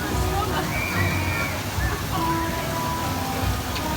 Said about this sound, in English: This is a good splash battle, I like the theme in here.